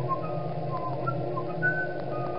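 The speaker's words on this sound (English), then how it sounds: "Let's whistle." A person whistles a tune in an elevator, carrying a wavering melody of short, sliding notes. The whistling is close and clear over a low, steady background hum, with no talk.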